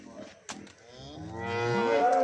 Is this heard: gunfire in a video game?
no